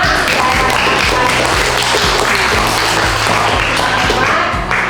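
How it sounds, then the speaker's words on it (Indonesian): Loud, continuous clapping from a classroom group during a teaching practice session, a dense steady patter of applause with rhythmic taps running underneath. "Ya, kasih tepuk tangan dulu untuk kita semua."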